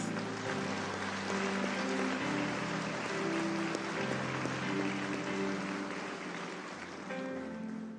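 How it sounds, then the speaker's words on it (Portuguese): A church congregation claps together as a steady hiss of many hands over sustained low keyboard or organ chords, the applause blending with the music at moderate volume throughout. "Você pode dar uma salva de palmas"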